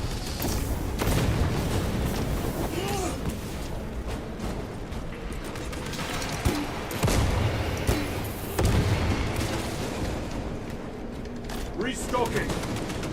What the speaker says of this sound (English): Frag grenade moving.